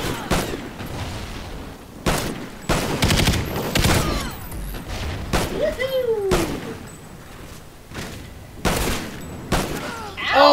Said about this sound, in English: I think that was me shooting at you